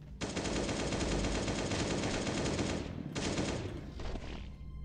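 An AK rifle in the survival video game Last Day on Earth fires a sustained, rapid automatic burst for several seconds, then a brief pause and a few trailing shots, loud and dense.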